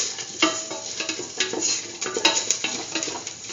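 Red chillies saute in a pan for a curried lentil and egg stew, a steady sizzle broken by repeated scraping stirs and light clinks of a utensil against the pan, close and clear.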